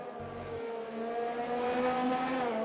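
An F1 race car on a lap in F1 2020 at the Chinese GP, a loud, steady high-revving engine whine that climbs in pitch as it accelerates, heard alone and close.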